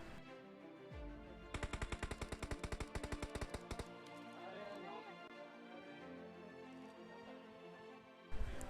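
Rapid automatic gunfire in a battle royale video game, a dense burst of many sharp shots lasting a couple of seconds, then a brief final burst amid game background sound.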